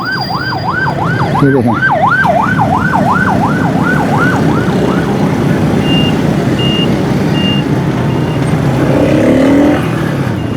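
A wailing ambulance siren stuck in a traffic jam on a road in Karachi rises and falls for several seconds, then fades, with engines rumbling, a reversing beep and someone speaking briefly.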